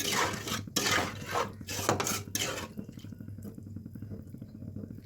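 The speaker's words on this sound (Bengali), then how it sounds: "ফ্রাই হয়ে গেছে, এখন দিয়ে দেব জল।" Water splashing and pouring into a pan of frying masala for Bengali dhoka curry, a broadband wash for the first few seconds that then settles into a softer simmering crackle.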